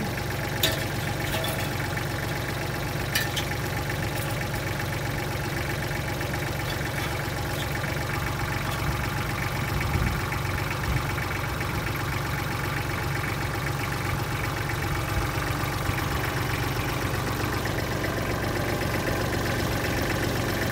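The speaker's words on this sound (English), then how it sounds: "we're gonna let the tractor pull the fence out." Tractor engine running steadily while pulling out goat fencing, a continuous low mechanical drone with knocking pulses, close and even throughout with no talking.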